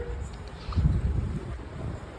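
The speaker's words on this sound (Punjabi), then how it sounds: "ਬਹੁਤ ਜ਼ਿਆਦਾ ਹੀ ਤੇਜ਼ ਹਵਾ ਚੱਲ ਰਹੀ ਹੈ" Gusty wind buffets loudly, rising in a rough surge midway, with a faint voice under the rumble.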